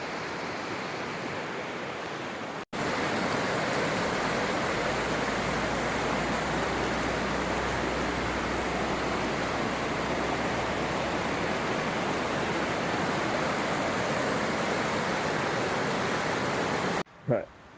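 Steady rushing water of a river in the Scottish hills runs loud and continuous as broadband noise, cutting in after a brief pause near the start and dropping out just before the end.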